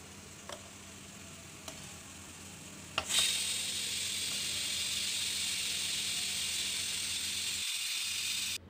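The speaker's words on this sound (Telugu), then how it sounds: "ఒక హాఫ్ స్పూన్ అల్లం వెల్లుల్లి పేస్ట్ కూడా వేసి వేయించుకోవాలి." Onions with half a spoon of ginger-garlic paste sizzle in hot oil for a soya chunk curry with bagara rice, a few faint taps first, then a sudden steady loud hiss that runs on before cutting off near the end.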